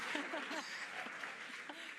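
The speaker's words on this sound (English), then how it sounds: "the crowd is going wild." A crowd watching a rocket's first-stage flight cheers and claps in a steady, distant roar, with faint voices rising through the continuous wash of noise.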